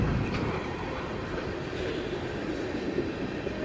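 A train rolls along a hometown railroad line with a steady rumbling, clattering wash of wheels on track, continuous and moderately distant throughout without any voices.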